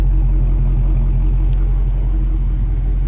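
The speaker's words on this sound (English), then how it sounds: "I mean, these mufflers sound great." 2018 Dodge Charger Scat Pack with factory exhaust and stock mufflers, idling in a deep, steady low rumble, close and continuous with no talk.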